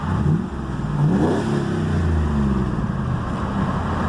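LS V8 swapped into a Chevrolet S10 truck idles fast and steadily nearby with a deep, even engine drone, a slight swell in the middle, and no voices over it.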